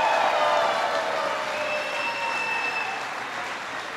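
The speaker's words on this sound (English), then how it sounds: "Give them all a big round of applause." A large crowd at a presidential event about autoworkers breaks into loud, continuous applause with some cheering, a broad roar that slowly fades over a few seconds.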